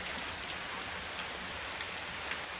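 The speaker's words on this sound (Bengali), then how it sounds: "বৃষ্টি তুলছো নাকি ভিডিওর মধ্যে?" Rain falls steadily outdoors as a soft, even patter with scattered droplet taps, fairly faint and continuous with no voices.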